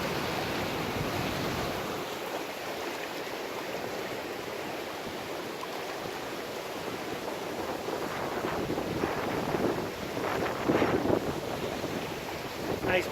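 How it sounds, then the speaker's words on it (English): Rushing river rapids in a forest near the Sourgrass area of Northern California give a steady, broad roar of water, joined by wind gusts buffeting the microphone that grow louder toward the end. "Got some major rapids right here."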